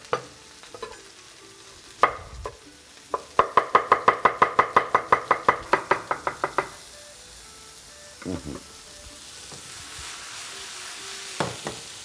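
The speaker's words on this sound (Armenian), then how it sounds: "բարձր ջերմաստիճան է հարկավոր սունկի տապակելու համար" Mushrooms frying over high heat, a rapid run of sharp clacking stirs against the pan in a burst, followed by a softer continuous sizzle with a few scattered knocks, close by.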